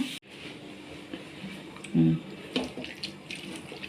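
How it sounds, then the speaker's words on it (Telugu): Water pouring into a large pot to cover straw for mushroom growing, a close gushing splash that swells in short bursts, with someone speaking over it. "ఇదిగోండి ఇలాగా నిండగా నీళ్ళు వేసేస్తున్నాము"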